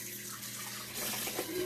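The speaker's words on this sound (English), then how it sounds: "Rinse my bowl." A kitchen tap runs steadily as a bowl is rinsed under it, the close water hiss swelling and splashing more as the bowl takes the stream.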